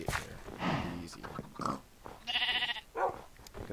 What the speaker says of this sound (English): Got some sheep here.